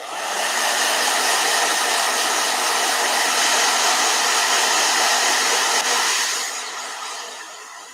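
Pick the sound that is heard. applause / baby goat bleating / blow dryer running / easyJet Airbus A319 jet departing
blow dryer running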